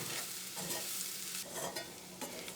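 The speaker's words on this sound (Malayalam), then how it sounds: "ഇതെല്ലാം കൂടിയിട്ട് നന്നായിട്ടൊന്ന് മിക്സ് ചെയ്യാം." Chicken coated in masala spices is stirred in a pan, with soft, repeated scraping strokes over a quiet, steady sizzle.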